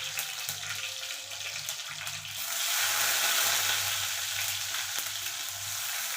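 Curry leaves dropped into hot oil with mustard seeds crackle and sizzle steadily up close, the frying swelling louder midway and holding as a dense hiss.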